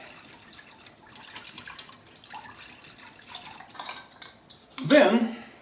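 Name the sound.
stirring meatball sauce with calf stock in a pot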